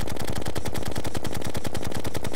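The Mega Shark gun in Terraria fires ordinary bullets in a rapid, unbroken machine-gun stream, each shot a sharp regular crack, loud and close with no speech.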